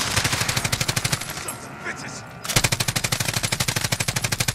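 Loud, rapid automatic gunfire in Call of Duty Warzone, a steady rattling burst that pauses briefly and then resumes at the same fast rhythm, close and dominant.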